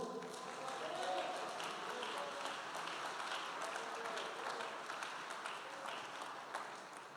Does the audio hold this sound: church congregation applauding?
yes